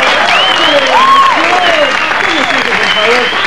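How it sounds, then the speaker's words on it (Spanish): A studio audience at a comedy show applauds to welcome guest Javier Barrón, a steady, loud wash of clapping that lasts throughout, with wavering tonal sounds like whistles or cheers sliding over it. "Fuerte el aplauso para recibir a Javier Barrón."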